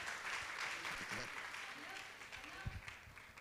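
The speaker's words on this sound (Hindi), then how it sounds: "तालियां उनके लिए जोरों से।" Audience applause at a Jain religious gathering, a broad patter of many hands clapping with a few louder, closer claps, while a voice talks faintly underneath.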